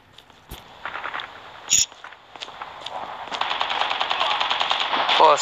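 Rapid automatic gunfire from Call of Duty Mobile, starting with scattered single shots and footsteps, then building into dense, continuous bursts that grow louder toward the end.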